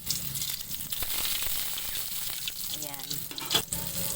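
Shrimp hit a hot pan and fry with a loud, continuous sizzle, stirred with scraping and clinks, while a voice speaks briefly nearby.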